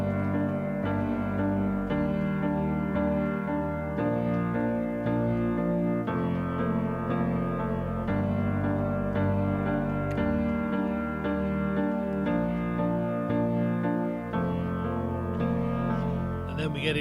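Nord Stage 3 keyboard plays the verse chords of a worship song in steady 4/4, a sustained layered patch with full low notes and bright upper tones, continuous and close without talk.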